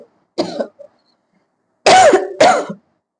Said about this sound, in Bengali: আমার একটু কাশি হয়েছে, তো হয়তো মাঝে মাঝে একটু কাশতেও পারি